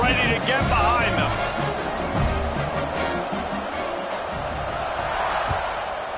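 At a college football game between ECU and UTEP, a large stadium crowd roars and cheers around the kickoff, a broad, distant wash of noise beneath a commentator's voice.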